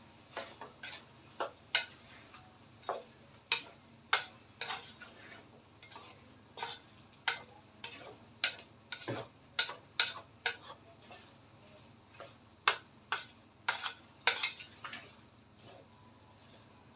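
Kebab meat being stirred in a metal pot with a utensil, giving a string of sharp clinks and scrapes in an irregular rhythm, close and fairly quiet.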